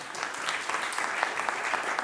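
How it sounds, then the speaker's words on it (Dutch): An audience at a live talk event applauds a teacher, with steady, dense clapping from a crowd holding an even level throughout. "Ook een applaus voor de docent hier."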